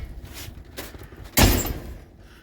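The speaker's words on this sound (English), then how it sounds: "Front door's closing." A house front door shuts with a single loud, close thud, preceded by faint shuffling and bumps, during a snowstorm.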